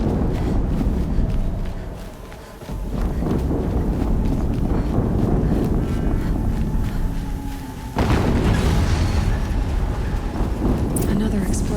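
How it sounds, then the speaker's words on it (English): Another explosion in Horizon Zero Dawn comes through as dense, rumbling game noise, with heavy bursts swelling up after a brief dip and again later, loud and continuous throughout. "Another explosion."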